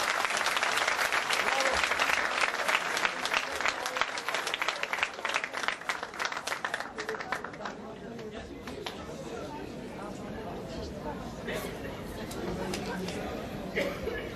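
An audience in a school graduation ceremony hall at Özel Cihangir Schools applauds, with loud crisp clapping that fades after several seconds into a murmur of chatter and scattered claps.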